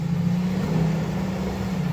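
A Ford Excursion's engine holds a steady low drone while the SUV sits stuck in snow, a constant mid-loud hum with no clear rise in revs and no talking over it.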